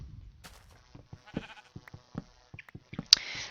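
A shorn sheep in the video game Minecraft bleats amid a run of soft, evenly spaced game sounds, ending in a sharp, bright noise.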